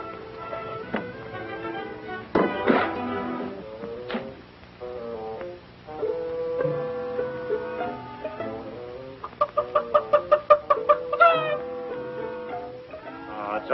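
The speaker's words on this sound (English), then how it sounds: "Oh, it's only a chicken." Chicken clucking inside a ranch barn in a 1937 Western, a series of short rhythmic clucks and squawks close by, mixed with other farm animal calls and a quick burst of repeated clucks near the end, with no talk.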